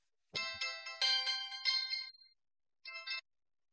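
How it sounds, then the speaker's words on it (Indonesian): A telephone ringing during a call in an Indonesian TV drama, a bright electronic melodic ringtone playing a run of tones, then a pause and a short second burst. "Telepon Pak Vita."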